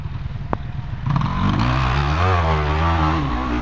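A motorcycle engine starts up and revs, rising and falling in pitch, loud and close, after a brief click at the start.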